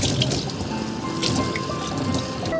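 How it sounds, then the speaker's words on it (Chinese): Sausages washed under a running kitchen tap give a steady trickle and splash of water with small drips, close and moderately loud. "这香肠们洗一下"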